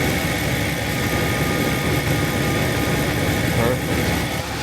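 A Rolls-Royce car engine idles steadily, a continuous low droning hum with even texture throughout, heard close and without changes in pace.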